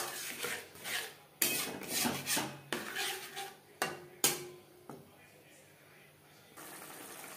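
Spice-rinsing water poured into a cooking pan of spices frying on a low to medium flame: a run of clinks, knocks and watery splashes, then a softer steady hiss, with faint voice in the background.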